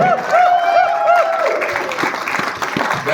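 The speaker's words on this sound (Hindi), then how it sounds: "जोरदार तालियों के साथ स्वागत करें।" An audience welcomes the MD on stage with loud, continuous clapping, while a bright whistling tone sounds in short repeated swoops at the start.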